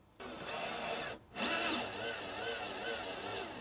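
A power tool tightening bolts on a bracket of a Sainsbury's van, a loud close whirring run that briefly stops, then resumes with a steady whine.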